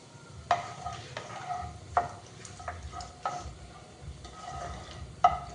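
A couple of bay leaves fry in hot tempering oil for a Bengali pulao, giving a soft background sizzle broken by several sharp spatula taps and scrapes against the pan.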